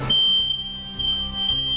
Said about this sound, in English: But not all smoke alarms work the same way.